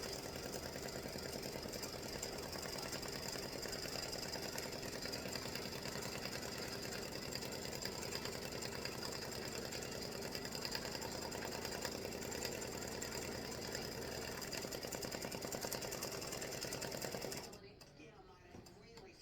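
Embroidery sewing machine with a big hoop tacking down Peltex for a tic tac toe game set, a continuous fast mechanical whirring stitch running steadily and up close before stopping near the end.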